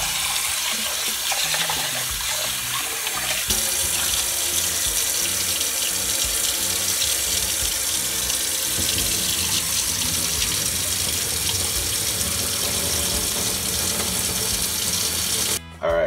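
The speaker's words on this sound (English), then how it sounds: "we'll just try to wash up the rice" Tap water runs steadily into a sink while rice is washed for a Jamaican ital stew peas, a continuous close splashing gush that shifts slightly in tone partway through and cuts off at the very end.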